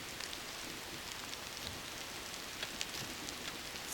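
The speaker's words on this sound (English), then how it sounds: "It's starting to rain." Rain falling outdoors in British Columbia, a soft continuous patter with faint scattered drops, quiet and steady throughout with no talking.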